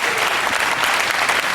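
Fans at a Ring of Honor wrestling show in Tokyo applaud in a dense, steady roar of clapping that runs unbroken from start to finish.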